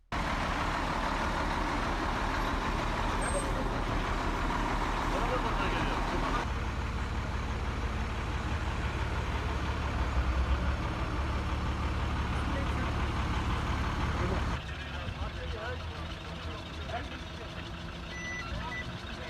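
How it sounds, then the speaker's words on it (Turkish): Traffic backed up on a road narrowed to a single lane, with steady engine drone from trucks and cars, a reversing beep and continuous rumble throughout, a voice talking over it. "uygulama nedeniyle tek şeride düşürülen yolda uzun araç kuyrukları oluşuyor"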